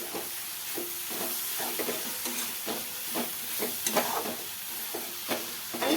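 Spicy sukat, a dried shrimp chutney, sizzles and hisses in a hot pan while a spatula scrapes and stirs it in regular, repeated strokes, with no talking.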